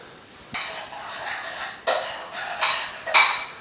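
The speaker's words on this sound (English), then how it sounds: "what we're going to do is stir that up" A spoon stirs a thick chocolate protein shake mixture in a bowl, four distinct scraping clinks spaced about a second apart, close and clear with no talk.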